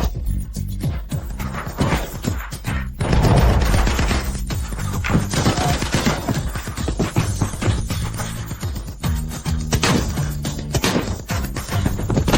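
Guards open fire with guns in a rapid volley of loud, overlapping shots and crashing bursts lasting several seconds, with no voices heard.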